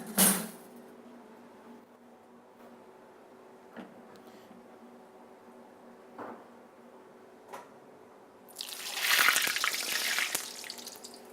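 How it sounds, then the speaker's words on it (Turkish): A chimichanga lowered into a hot frying pan, with quiet clinks and knocks giving way to a sudden loud sizzle that keeps crackling steadily near at hand. "Güzelce koyuyorum kızgın tavaya."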